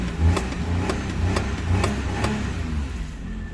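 Motorbike engine with a non-starting fault revved with the accelerator nearby, a steady running drone lifted by a few short throttle surges with rhythmic pulsing, loud and close with no talk.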